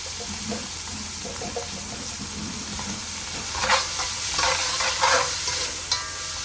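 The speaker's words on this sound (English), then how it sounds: "we're going to add our beans for now. I'm going to use pinto beans" Pinto beans go into a hot pan with a steady, close sizzle and frying hiss, and a few brief stirring and scraping bursts partway through. Nobody speaks.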